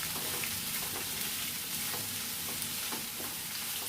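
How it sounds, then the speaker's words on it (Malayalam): Chopped onions with curry leaves sautéing in a pan for a fish curry, a faint, even sizzle with occasional soft stirring scrapes, steady throughout with no voices. "സവാള നന്നായി ഒന്ന് വഴറ്റി കൊടുക്കാം"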